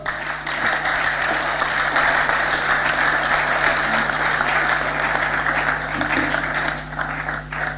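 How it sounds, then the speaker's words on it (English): A large conference audience applauds at a closing ceremony, a steady, dense wash of clapping that holds loud throughout and eases slightly near the end, with a low hum running beneath it. "Clap for yourselves."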